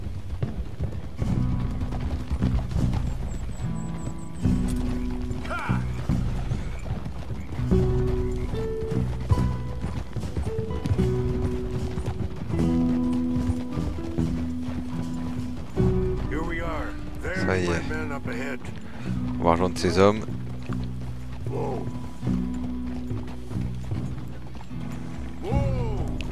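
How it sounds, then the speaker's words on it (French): Horse hooves clip-clop in the video game Red Dead Redemption 2 on a foggy escort mission, irregular thudding steps under game music and a brief spoken line, with a few sharper knocks. "C'est le cheval, il veut plus avancer."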